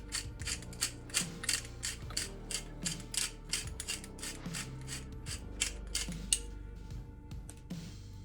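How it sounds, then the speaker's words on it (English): A hand-cranked pepper mill grinds coarse fresh black pepper onto a sous vide sirloin tip roast, with a rapid, even series of close, dry ratcheting clicks and crunches that slows and fades near the end. "Now I always like to use fresh ground pepper"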